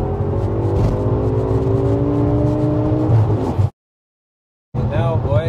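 A 1070hp Audi RS6 four-door accelerates hard, its engine note climbing steadily in pitch as it pulls, loud and heard from inside the cabin, then cuts to a brief silence before the roar resumes.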